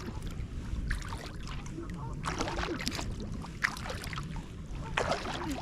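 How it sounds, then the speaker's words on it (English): A kayak is paddled on Loch Lomond, with rhythmic splashes and water swishes over wind and low rumbling noise. Strokes come every second or so, close by. "So whilst we're just paddling along,"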